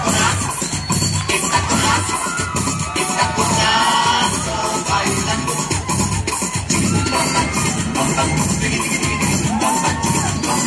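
A school audience at a celebration cheers and claps for a class group, with loud, continuous crowd noise, children's shouts and voices mixed in throughout.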